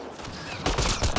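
Gunfire in Mass Effect: Andromeda, with a steady low din that gives way to a louder run of close, overlapping shots in the second half, during a fight that includes a headshot.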